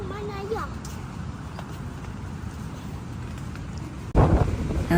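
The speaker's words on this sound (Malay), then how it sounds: "Nampak gaya angin lagi kuat ni waktu malam." Strong night wind buffets the microphone at a seaside campsite, a constant rushing roar with a sharp louder gust near the end.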